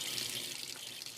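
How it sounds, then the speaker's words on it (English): Tap water pouring into a Steam Buddy clothes steamer's reservoir, a constant close splashing rush with no voices. "tap water is acceptable, and the Steam Buddy's easy enough to fill up."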